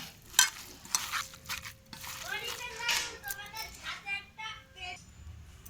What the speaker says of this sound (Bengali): আমি একটু সামান্য পরিমাণে একটু বেসন দিয়ে দিলাম, দিয়ে ভালো করে চটকিয়ে মাখবো